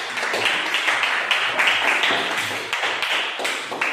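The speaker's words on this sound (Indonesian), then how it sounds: "silakan berikan aplaus untuk kelompok 4" Applause from a grade 8 classroom for a student group: a dense, steady patter of many hands clapping at close range, lasting throughout with no pauses.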